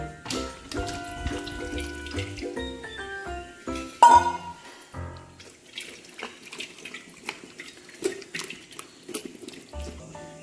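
Liquid pouring and trickling through a strainer with clinks of utensils and glass, kokum seed juice being strained, the sound starting and stopping in short bursts, close and fairly quiet.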